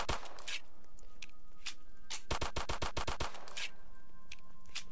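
Glock pistol gunfire in a Roblox zombie-shooting game, with sharp single shots followed by a fast run of about ten evenly spaced rounds over steady game background noise, and no talking.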